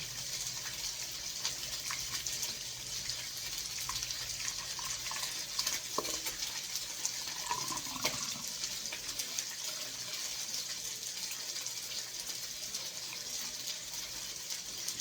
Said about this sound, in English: Go ahead and pour it using a funnel.